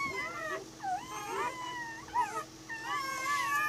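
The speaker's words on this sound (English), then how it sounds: "I love the puppy noises." Newborn Anatolian Shepherd puppies in a whelping box, several overlapping high, thin cries, whimpers and squeals, close and fairly loud, rising and falling continuously with no voices.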